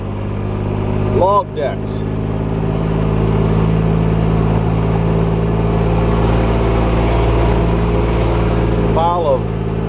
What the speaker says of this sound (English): That's a rubber tire loader.